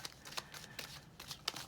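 A deck of tarot cards is shuffled by hand in a series of soft, quick riffling swishes, faint and close, with no talking.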